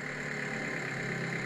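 A parked car engine runs at a steady, even idle with slightly raised revs, a continuous mid-pitched hum with no change in speed across the short stretch; the car has an abnormal vibration near the gearbox.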